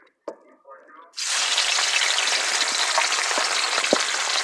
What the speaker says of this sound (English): I'm going to kind of stir fry this bad boy.